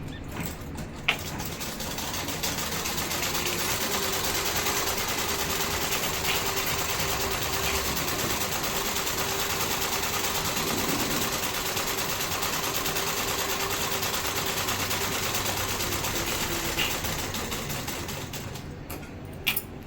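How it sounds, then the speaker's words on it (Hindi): A sewing machine runs in one long, continuous stretch of stitching on a 44-inch blouse, a steady close whir with brief clicks at the start and end. "और एक सिलाई हम यहाँ पर भी लगा देंगे"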